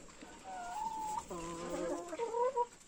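Chickens on a rural farm give a short run of melodic clucks and drawn-out calls, close by and fairly soft, against quiet background.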